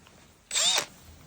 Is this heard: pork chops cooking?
no